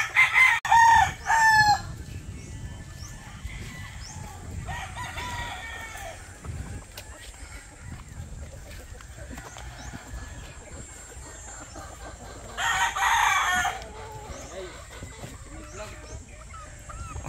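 Gamefowl roosters on a breeding farm crow loudly in two or three bursts, with steady clucking and barnyard noise filling the gaps between calls.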